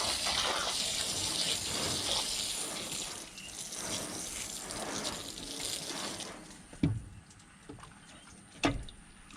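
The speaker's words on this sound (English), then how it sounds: "Give it a good hose top and bottom." Hose water rinsing a flathead fish, a steady close gushing spray for several seconds that then stops, followed by a couple of sharp thumps and handling noises.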